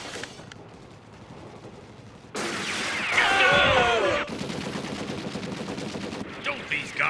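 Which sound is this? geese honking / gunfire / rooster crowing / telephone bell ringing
gunfire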